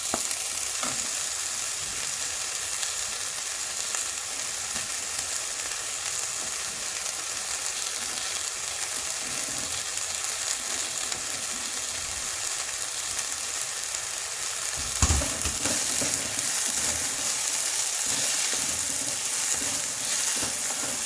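Sweet potato leaves sizzle steadily in a hot frying pan of roasted dal ingredients, with soft stirring scrapes and one louder clunk near the end, no voices.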